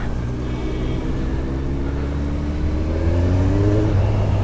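A Kawasaki Ninja 1100SX motorcycle engine revs up, its rising whine climbing steadily over a constant loud engine hum, with no one speaking.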